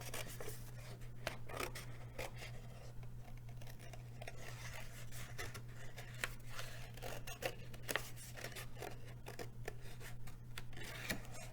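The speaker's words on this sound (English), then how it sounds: "Next, you're going to take your scissors" Repeated crisp snipping and rustling as scissors cut through a paper plate, irregular close strokes over a steady low hum.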